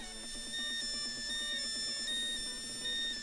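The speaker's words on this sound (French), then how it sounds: "une sirène d'alarme se met à retentir moyennant le haut-parleur" Alarm siren sounding from the loudspeaker of a countdown timer circuit once it reaches zero, a steady electronic tone with a rapid repeating pulse, continuous and fairly loud throughout.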